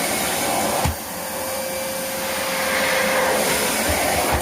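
A Hoover Whirlwind vacuum cleaner runs with a steady, loud motor whine and airflow roar, close by and constant apart from a brief bump near the start, with no talk.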